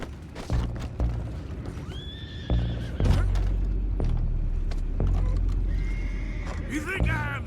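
Horse neighs and whinnies in Red Dead Redemption 2, loud and close with hoof clip-clops, booming thuds and game noise, while voices talk over the scene.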